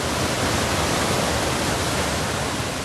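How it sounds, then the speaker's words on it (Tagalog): Swollen river in Buldon, Maguindanao del Norte rushing after heavy monsoon rain, a loud, dense, unbroken roar of torrential water filling the whole moment. "Rumaragasa ang tubig sa ilog na ito sa Buldon, Maguindanao del Norte kaninang umaga."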